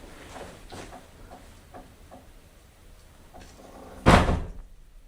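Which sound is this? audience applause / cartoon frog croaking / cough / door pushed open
door pushed open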